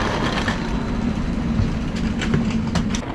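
Train rolling along rails in Riga with a continuous deep rumble and occasional clicks from the wheels, heard close and steady throughout with no talking.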